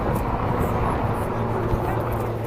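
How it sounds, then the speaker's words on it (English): A helicopter leaves a heliport near the High Line in Manhattan, making a loud, continuous rumbling roar that fills the air, with faint voices mixed into the background. "Another helicopter leaving here."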